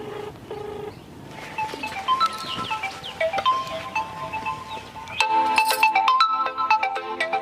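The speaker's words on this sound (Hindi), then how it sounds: "जात बा घंटी।" A phone ringtone plays as a repeating electronic melody, growing louder and brighter partway through, with faint background chatter.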